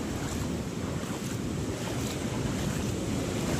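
Steady roar of sea waves and surf with strong wind buffeting the microphone, continuous and loud throughout, no voices.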